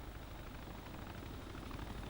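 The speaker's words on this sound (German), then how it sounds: "Ja, der Heli kommt." A helicopter in the video game DayZ makes a faint, steady rotor and engine rumble in the distance, with no speech over it.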